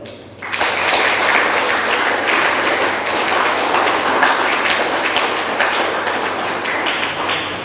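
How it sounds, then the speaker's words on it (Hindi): An audience at a school seminar claps loudly and steadily, dense applause filling the space for several seconds without a break. "आप अपने लिए बहुत ज़ोर ज़ोर से तालियां बजाओ"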